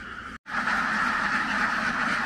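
Large flock of domestic ducks, thousands strong, out in a rice field: a dense, continuous wall of loud quacking that carries through the whole stretch after a brief cut near the start.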